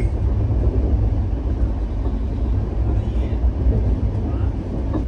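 A train running past Bitragunta and Kavali stations without stopping, a dense continuous low rumble and rattle of wheels on track, steady and loud throughout with no clear talk.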